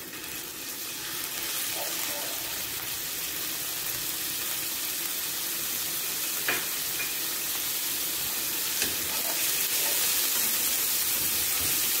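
Vegetables with garlic fry in a pan for chicken shashlik, giving a steady, even sizzling hiss that holds for the whole stretch, with a few faint clinks and no talk.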